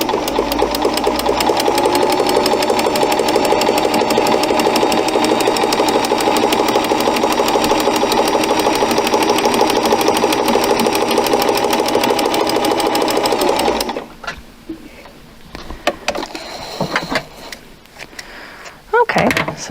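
Vintage Kenmore 158.1802 sewing machine stitching an eyelet, a fast steady mechanical whirr and needle clatter running continuously for about fourteen seconds, then stopping abruptly, followed by scattered handling clicks and knocks.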